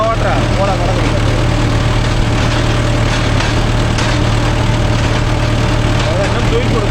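Mahindra Yuvo Tech Plus 585 4WD tractor with shuttle gear pulling a 9-point spring cultivator through a field, its engine droning steadily and loudly throughout, with constant low rumble and no pauses.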